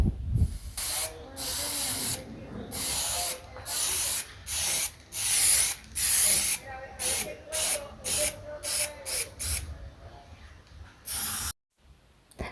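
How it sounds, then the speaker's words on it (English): Aerosol can spraying white chalk paint onto a detailed mirror frame, in a long series of repeated close hissing bursts separated by short pauses, ending in a brief silence. "after white primer, I'm spraying the frame with white chalk paint"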